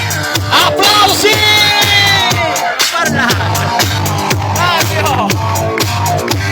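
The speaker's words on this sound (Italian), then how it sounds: "Applausi!" Crowd at an 80s music DJ set shouting and whooping over a pounding, rhythmic dance beat, loud and continuous, with a voice calling out.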